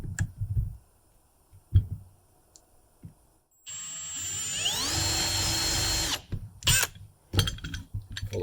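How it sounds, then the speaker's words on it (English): A power drill spins up and runs for about two and a half seconds, using a drill bit to mark a spot on a Thule roof rack, with rising whine, preceded and followed by scattered handling clicks and knocks. "I use the drill bit to go ahead and mark it."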